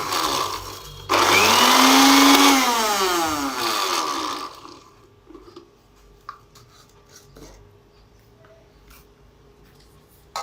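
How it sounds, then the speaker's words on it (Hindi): An electric grinder coarsely grinds spices for chaat masala, a loud close whirring roar for about three and a half seconds, then it cuts off, leaving quiet with faint clatter. "थोड़ा थोड़ा करके ग्राइंड करते रहेंगे।"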